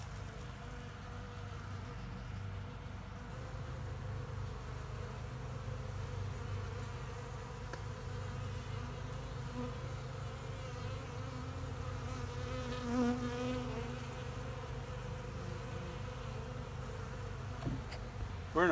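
Dense, steady buzzing of many honeybees around open hives in winter while dry sugar is put in for feeding, a continuous close hum with no talk.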